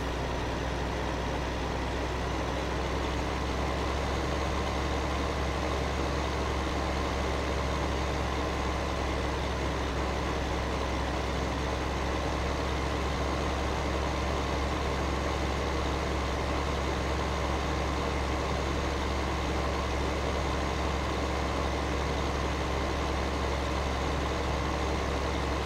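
Heavy tractor engine in Farming Simulator 15 drones steadily at a low pitch, a constant idling rumble that holds without change throughout, with no voices over it.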